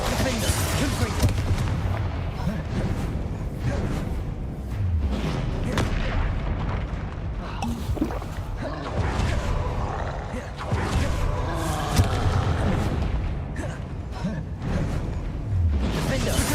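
Spell combat in the Hogwarts Legacy game, with repeated booming Confringo blasts, whooshing casts and rumbling impacts one after another, loud and close, and a person talking over much of the action.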